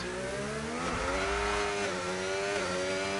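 A racing game's race car engine, on a Monza track, holds a steady high-pitched whine and revs up to near top speed, with a brief dip and climb in pitch as it changes gear.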